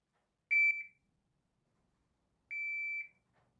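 An electronic shot timer used for dry-fire pistol practice gives two sharp, high, steady beeps about two seconds apart, the second one longer, in an otherwise quiet room.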